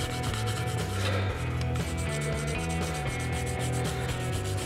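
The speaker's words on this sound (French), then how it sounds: "prends un petit bout de mousse Tamiya, alors du 3000, trempé dans l'eau" Fine 3000-grit abrasive foam, dipped in water, wet-sands plastic in steady back-and-forth scrapes, close up and fairly quiet, with a faint musical backdrop.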